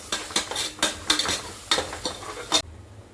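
Onions fry with ginger garlic paste in a pan for veg pulao, a utensil scraping and clinking in quick rhythmic strokes over a steady close sizzle that cuts off abruptly near the end.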